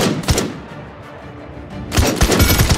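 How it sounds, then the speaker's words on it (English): Assault rifle fire from the Paladins video game training mode: a short burst of gunshots, then a pause of low background sound, followed by a second sustained burst of rapid shots, loud and close. "Your primary weapon is your assault rifle."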